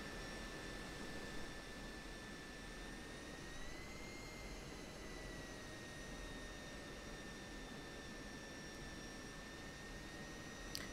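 Simulated F-16 Viper jet engine idling while taxiing in DCS World, a steady loud turbine whine over a broad roaring hiss, unchanging throughout with no talk.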